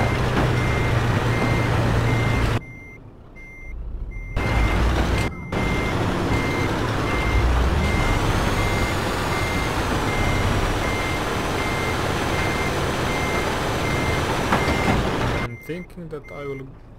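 Euro Truck Simulator 2 game audio of a truck reversing with cargo: regular electronic reversing beeps repeat steadily over a loud engine rumble, with short gaps and a brief air-brake-like hiss near the end.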